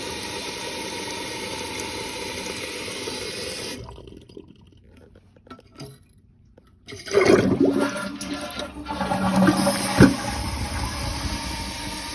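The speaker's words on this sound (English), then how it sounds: "filling up nicely" Toilet tank refilling after a fill-valve part replacement to stop a running toilet: a rushing flow of water, then a brief lull, followed by louder hissing, gurgling water as the tank fills, close and steady with no talk.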